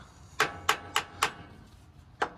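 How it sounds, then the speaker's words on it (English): A brass hammer taps on a differential cover of a Dana 70 axle, giving five sharp metallic knocks, four in a steady rhythm and one after a pause, close and clear with no talk. "this is a brass hammer"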